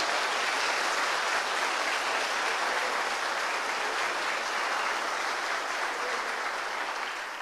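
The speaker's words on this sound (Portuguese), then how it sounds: "Aplauda o Senhor Jesus com fé." Steady applause fills a church as the congregation claps during a sermon, a broad, even wash of many hands sustained for several seconds without a break.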